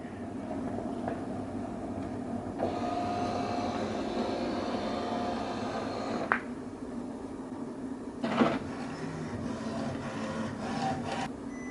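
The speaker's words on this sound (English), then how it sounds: "The printer will now scan the alignment page." An HP Ink Tank 310-series printer scans an alignment page with a steady mechanical whir that holds for several seconds. A few clicks and clunks break in as the scanner carriage moves, heard close and alone.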